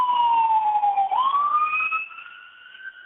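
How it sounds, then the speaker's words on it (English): A passing ambulance siren wails loudly in one long sweeping tone that dips, then rises again and fades as it moves off into the distance. "Oh, there's an ambulance going by here."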